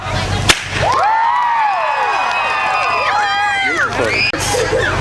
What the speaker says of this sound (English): I want you to clap and cheer like you've seen a trick that you like